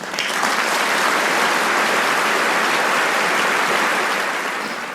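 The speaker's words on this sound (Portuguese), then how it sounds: "só por causa disso já merece uma série de aplausos" Steady, dense applause from a crowd, with sustained clapping held at an even level for several seconds and no voices over it.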